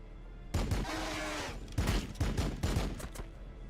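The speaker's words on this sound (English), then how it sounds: "We are taking fire." Video game gunfire erupts suddenly after a brief silence, a dense volley of loud, overlapping shots followed by several separate sharp bursts.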